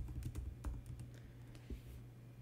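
Keys on a computer keyboard are tapped at a quick, irregular pace while a terminal command is typed, producing soft, close clicks and thumps at a low level with no talking.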